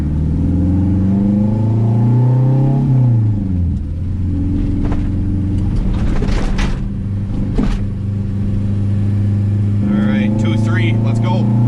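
A 500-horsepower turbocharged Honda K24 street car engine drones and revs loudly, with pitch sweeping up and down through gear changes and a few sharp pops, while people talk inside the car.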